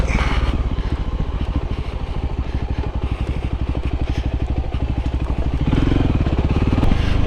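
A Voge 300 Rally motorcycle rides along a dirt trail, its engine a loud, close, rhythmic single-cylinder thrum that rises in pitch near the end, with faint clatter over rough ground.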